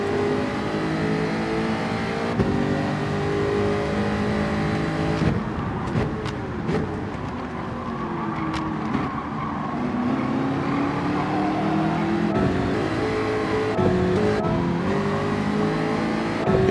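A Bugatti in Gran Turismo 7 accelerates hard, its engine note rising and shifting steadily through gears, loud and continuous with a few brief clicks and no talk over it.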